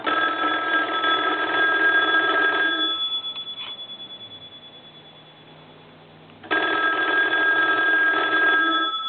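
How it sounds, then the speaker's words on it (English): A repaired wood wall telephone rings its bell loudly in two long, steady rattling bursts, with a quiet pause between them. "And we'll go ahead and ring the telephone."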